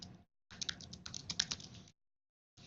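Fast, close clicking on a computer keyboard comes in bursts of keystrokes with short silent gaps between them, and no voice is heard.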